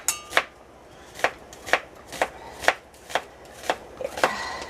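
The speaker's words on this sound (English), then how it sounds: "I'll cut up some onions here" Kitchen knife slicing onions on a cutting board: about ten crisp, evenly spaced chops close up, each a sharp tap of the blade on the board, with no talking.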